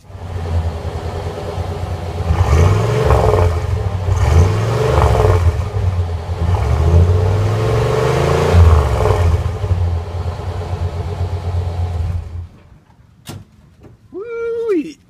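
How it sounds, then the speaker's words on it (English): Truck engine fitted with a turbocharger revs loudly in repeated rising and falling surges for about twelve seconds, then cuts out, followed by a brief high whistling sweep near the end. "let's listen to this turbo sing."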